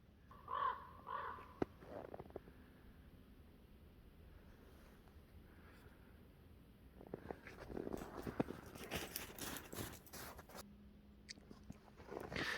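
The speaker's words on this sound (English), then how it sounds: "You gotta be crapping me. There's a raven." A raven calls out of doors in a quiet wooded spot, a few harsh caws rising early and again toward the end, fairly near, among rustling and footstep-like noises, with no talking.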